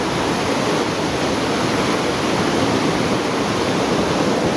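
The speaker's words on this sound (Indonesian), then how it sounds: "di sini arusnya lebih deras ya" A fast-flowing river current rushes loud and constant at a river tubing spot at Cipeundeuy Endah in Majalengka, with no voices over the dense roar of water.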